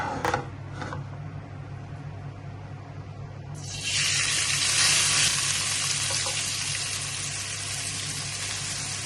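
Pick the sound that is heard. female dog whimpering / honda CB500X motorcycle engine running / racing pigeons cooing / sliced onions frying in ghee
sliced onions frying in ghee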